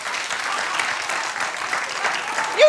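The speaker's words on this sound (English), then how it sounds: "People clapping almost as old as Chevy." An audience claps steadily and densely throughout, a continuous wash of applause at moderate level with a brief voice-like sound at the very end.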